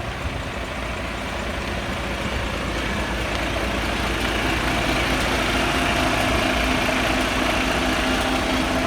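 A Mercedes truck engine idles nearby with a steady, continuous low rumble that holds at an even level throughout, with no talking.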